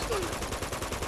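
Rapid gunfire in Uncharted 2 Among Thieves Remastered, a dense run of sharp repeated blasts filling the whole moment at high loudness with no pause.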